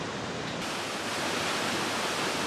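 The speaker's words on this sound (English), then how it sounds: "this is one of the most beautiful waterfalls we've ever seen" A waterfall on Hawaii's Big Island roars as a dense, steady rush of water, loud and unbroken with no voices.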